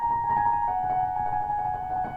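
A piano plays a steady, high, shimmering figure meant to mimic the flutter of butterfly wings, with sustained ringing tones held alone for about two seconds.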